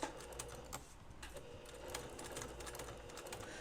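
A sewing machine stitching right over existing blue stitching on an in-the-hoop project, a soft continuous mechanical whir with faint clicking ticks, close and steady throughout.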